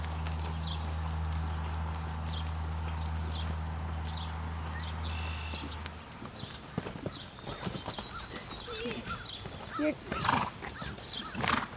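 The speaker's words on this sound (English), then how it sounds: "Keep cantering and just canter that outside again." A horse canters in an outdoor riding session, rhythmic hoof clip-clops over soft ground after a steady mechanical hum cuts out midway, with an instructor's voice calling out and a rider's movement nearby.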